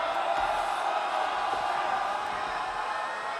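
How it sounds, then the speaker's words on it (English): Arena crowd at a professional wrestling event (ROH TV main event) roars and cheers in a steady, dense wash of noise, loud and continuous, with faint whoops rising from the mass. "Listen to the crowd here. They love the Outrunners, Riccaboni."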